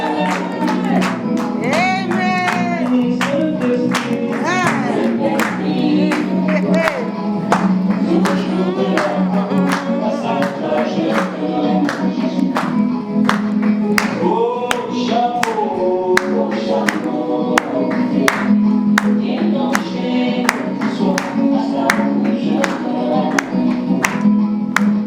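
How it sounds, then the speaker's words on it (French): Wedding guests applaud steadily and loudly at a church ceremony, a dense, continuous patter of many hands clapping, with some rhythmic unison claps and faint voices mixed in. "Acclamez très fort."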